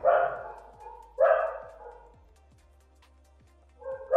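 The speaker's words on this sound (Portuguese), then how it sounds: "A cachorrada tá latindo aí." Several dogs bark in bursts somewhere nearby, two loud volleys at the start and another at the end with quieter gaps between, while faint rhythmic ticking runs underneath.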